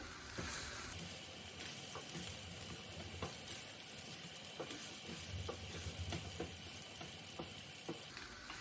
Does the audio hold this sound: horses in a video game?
no